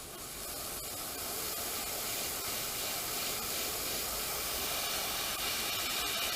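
A steady, close hiss of an airbrush spraying paint through a stencil onto a fishing bait, continuous and unbroken, with faint handling noise at the start.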